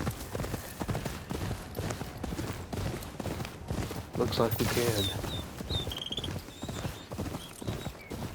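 Horse hooves clip-clop steadily uphill in the video game Ghost of Yotei, with a brief whinny partway through and a person talking over the rhythmic hoofbeats.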